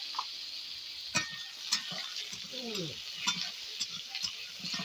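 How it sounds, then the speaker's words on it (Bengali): Thin round radish slices sizzle steadily in hot oil while being stirred, with intermittent scraping clacks of the utensil against the pan and a brief low voice murmur partway through. "মূলোগুলোকে কেটে নিয়েছি পাতলা পাতলা করে গোল গোল করে, সেটা এবার এই তেলের মধ্যে দিয়ে দেবো"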